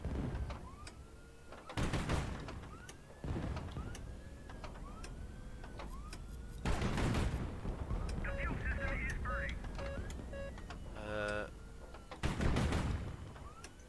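Large ship cannons fire in the naval strategy game High Fleet, with a few heavy booming blasts spaced several seconds apart among mechanical game noises, while someone talks over them.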